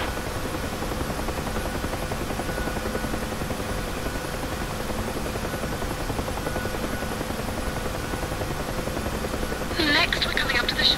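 A UH-1 Huey helicopter in the DCS flight simulator takes off, its rotor and turbine droning in a steady, loud, unbroken wash that swells slightly near the end.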